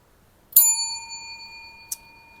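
A bright bell ding rings out once and leaves a long ringing tail, then a second, softer tap follows near the end, clean and close against silence.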